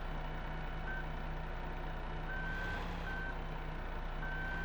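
Reversing beeps from a vehicle backing up two trailers in Farming Simulator 2015, a steady repeating tone over a constant engine drone, with no talking.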